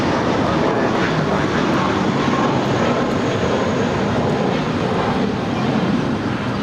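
Broad, loud roar of a jet airliner at LAX, a steady sustained engine rumble across the whole stretch with no clear speech over it.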